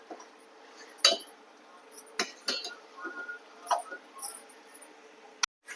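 A spoon stirring and scraping spices in a cooking pan while making chicken curry, with sparse metallic clinks and taps at irregular intervals, fairly close and quiet.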